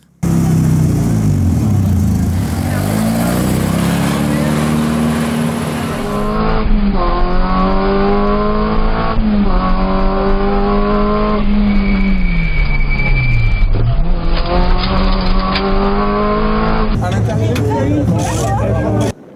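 A rally car races through a stage of the Rallye du Béthunois, its loud engine revving up and down through repeated gear changes with tires squealing, close and constant, while indistinct voices chatter beneath.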